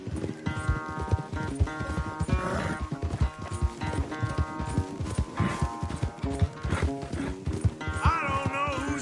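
Horses gallop in a race within a video game, with rapid, continuous hoof clip-clops near and loud and a whinny toward the end, backed by game music.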